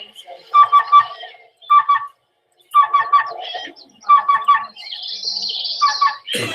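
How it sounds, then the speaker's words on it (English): Black-billed cuckoo calling in short rhythmic bursts of rapid, evenly spaced notes, clear and close, separated by brief silences. "That was the black-billed cuckoo."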